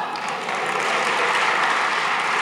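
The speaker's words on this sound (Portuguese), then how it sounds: "Salva de palmas para o nosso fotógrafo" A crowd applauds steadily, dense clapping filling the whole moment without a break.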